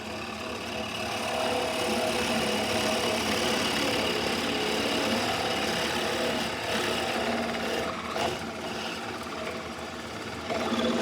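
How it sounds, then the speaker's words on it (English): A drill press boring steadily down through a wooden board, a continuous loud motor whine with grinding, rasping bit noise that holds for most of the stretch and eases near the end. "I'm going to turn my drill press on."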